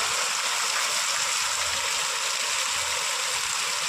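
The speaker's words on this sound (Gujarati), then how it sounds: "વરસાદ ફૂલ ચાલુ થઈ ગયો છે." Heavy rain pouring down in a village, a dense, steady broadband hiss of water with no breaks, loud and close throughout.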